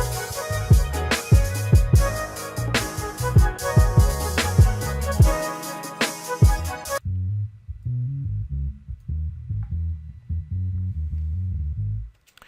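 Distorted bass guitar riff through a Guitar Rig amp preset in FL Studio 12, punchy plucked notes, loud and up front; the tone turns cleaner and thinner for the second half.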